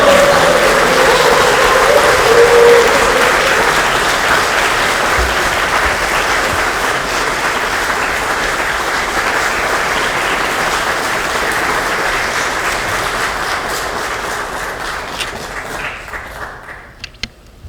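Loud, sustained applause from an audience at a Democratic Party caucus meeting welcoming presidential candidate Lee Jae-myung, a dense wash of clapping that holds steady for most of its length before tapering off near the end.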